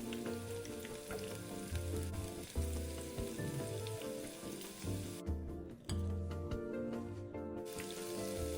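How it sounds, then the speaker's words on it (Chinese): Anchovy fritter batter spooned into hot oil deep-fries over medium-low heat with a steady bubbling sizzle, broken by clinks and the occasional louder splash or scrape of a utensil. "中小火油炸2分钟定型，不要急着翻面"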